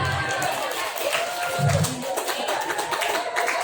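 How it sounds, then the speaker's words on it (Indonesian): Audience clapping at a Year 12 farewell ceremony at SMK Muhammadiyah 5 Kisaran, a busy patter of hands over crowd murmur, with voices speaking underneath. "Tepuk tangan dulu"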